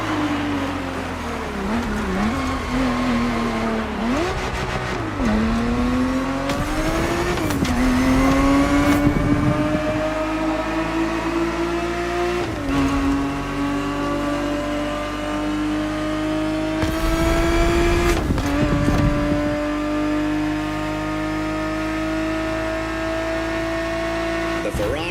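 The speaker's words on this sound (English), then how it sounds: "The Ferrari 365 GTB4 is the perfect vehicle for you to experience Ferrari racing as it felt back in the 70s" Ferrari 365 GTB4 engine in The Crew Motorfest revving steadily with rising and falling pitch, a continuous loud racing-car drone with brief gear-change dips throughout.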